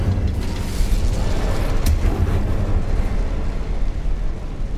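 Incendio fire spell cast in Hogwarts Legacy on PS5: a dense, loud whooshing blast with a sharp crackle near the middle, sustained rumbling throughout, no talking.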